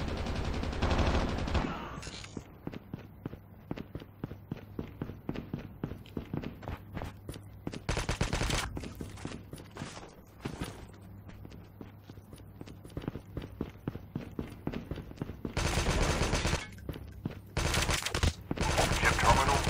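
Gunfire in a Call of Duty battle royale match, with bursts of automatic shots and scattered single rounds coming in irregular clusters, some loud and close, others thinner and farther off, under occasional talk.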